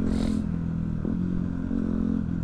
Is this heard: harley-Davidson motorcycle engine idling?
yes